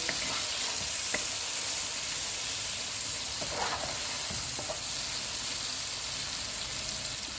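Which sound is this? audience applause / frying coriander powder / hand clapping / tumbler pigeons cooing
frying coriander powder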